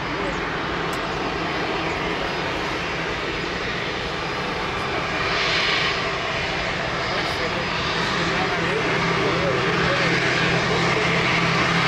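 United airliner crossing the runway at Lisbon Airport, a loud sustained jet engine roar with broad rushing noise swelling slightly, while someone talks over it.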